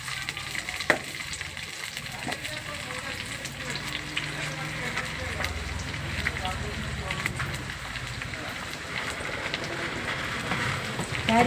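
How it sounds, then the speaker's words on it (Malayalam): A fire burns steadily on glowing embers while hibiscus oil is being made, giving a continuous low crackle and sizzle with occasional sharper pops throughout. "തീക്കട്ടിയിലായതുകൊണ്ട് തീ കത്തിക്കുന്നതിന് കുഴപ്പമൊന്നുമില്ല"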